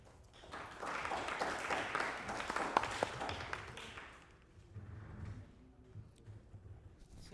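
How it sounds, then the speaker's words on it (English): Audience applause for a hackathon team at an onsite finals event, a broad burst of clapping that swells for about four seconds and then thins out into scattered claps and low murmur. "let's give a round of applause for Farmipol"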